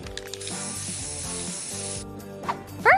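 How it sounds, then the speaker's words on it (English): An aerosol spray can lets out one steady hissing burst of about a second and a half, heard over background music, while a wall is being decorated. "A spray can!"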